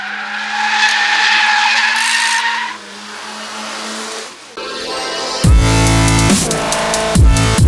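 A Mazda RX8 drifting, its tires skidding and squealing loudly over a steady engine drone, then a brief lull before the engine revs hard and the screeching rises again close by.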